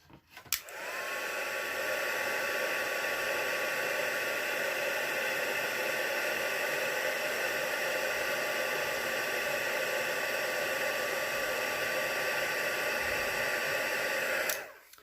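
A heat embossing tool blows hot air over a handmade baby card, a steady loud whirring hiss running unbroken for about fourteen seconds before clicking off.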